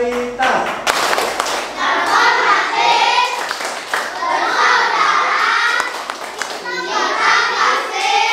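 Children in a Sunday-school class clapping the Tepuk Karitas clap chant, rhythmic hand claps running throughout alongside children's voices chanting and calling out.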